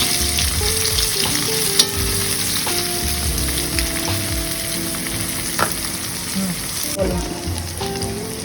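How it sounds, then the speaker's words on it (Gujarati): Gujarati stuffed okra with masala filling being gently stirred in a sizzling pan: a constant close frying hiss with scraping and light clinks of a spoon against the pan. "હવે આપણે એને મિક્સ કરી લેવાનું છે ધીમે ધીમે, જેનાથી નીચે પડવા ના પડે"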